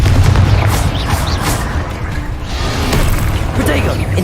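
Confringo explosion spell cast in the Hogwarts Legacy video game, heard as a dense run of heavy booming blasts and bursts across the whole stretch, loud and continuous, with voices mixed in among the impacts.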